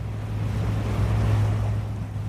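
A boat runs south through Ramsey Sound off the west coast of Wales, a steady low engine drone mixed with wind buffeting and surf wash, loud and constant throughout with no voices.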